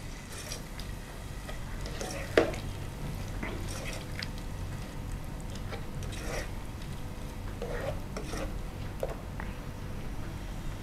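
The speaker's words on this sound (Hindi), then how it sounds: "मसाला हमारा बहुत अच्छा भुन रहा है" Masala of powdered spices with tomato, garlic and onion frying in a pan, a quiet low sizzle with intermittent stirring scrapes and clicks, one sharper knock early on.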